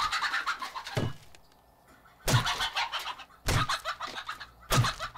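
A chicken in the survival game 7 Days To Die clucks in short bursts, four loud close squawking calls separated by quiet gaps, with no talk.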